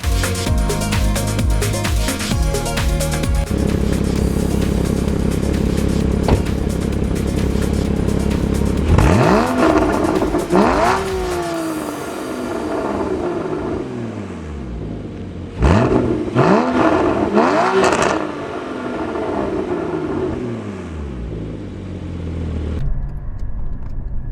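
A salvaged Porsche GT4 driving on the road gives a loud, steady engine drone with tyre and wind noise. Two rising revs come through as it accelerates through the gears midway, and it settles back to a steady cruise.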